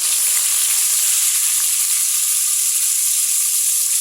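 Garlic paste, onion paste and dried fish hit a hot pan, producing a loud, steady, close-up sizzle and hiss that runs unbroken throughout with no voices.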